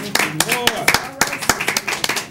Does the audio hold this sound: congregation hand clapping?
yes